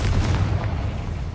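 A Confringo blasting spell explosion in Hogwarts Legacy, a loud, deep boom with a rumbling tail that fades over about a second.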